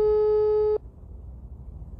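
A steady telephone busy tone while calling someone, heard once for under a second, clear and close before cutting off into quiet room noise.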